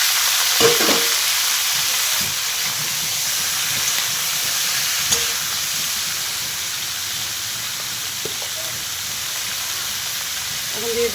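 Vegetables hit hot oil with black cumin and sizzle loudly in a pan, a constant frying hiss with occasional clanks and scrapes of stirring throughout.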